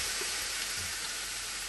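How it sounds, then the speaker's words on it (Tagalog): Pork belly sizzles steadily in a hot pan, a continuous bright frying hiss at moderate level, with a brief louder clatter right at the end. "Dito ay mainit na ating kawali at atin na isalam ang ating pork belly."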